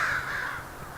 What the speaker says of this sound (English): you can probably hear the birds right now